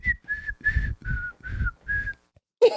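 A person whistles a song in close, clear sustained notes, about six phrases in a steady rhythm, each backed by a low thumping accompaniment and ending with a brief pause and a short burst.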